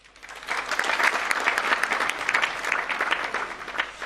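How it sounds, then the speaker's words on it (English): Audience applause at a political party dialogue on fisheries: steady, dense clapping from a crowd that builds quickly and holds level for about four seconds. "let's give them a round of applause."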